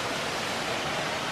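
A roughly 100-foot waterfall roaring as a steady, loud, broadband rush of falling water with no voices.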